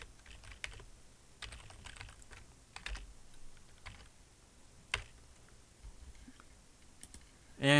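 Quiet clicks of typing on a computer keyboard while an article is edited, scattered bursts of keystrokes with short pauses between them, ending in a brief louder sound.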